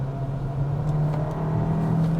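A 2025 Hyundai Kona Limited AWD accelerates hard on a test drive, its engine holding a steady drone with a rising whir and road noise inside the cabin, with no talk.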